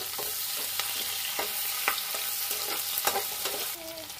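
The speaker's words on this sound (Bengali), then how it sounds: "এবার আমি পেঁয়াজটাকে একটু নাড়াচাড়া করে নিচ্ছি।" Onions frying in a pan for a Bengali-style pabda fish curry, a steady close sizzle broken by repeated scraping stirs of a utensil at a loose, irregular rhythm, with no talking.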